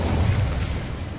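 A Confringo blasting spell explodes in Hogwarts Legacy as a single loud, close, low boom with a rumbling, crackling tail and no voices.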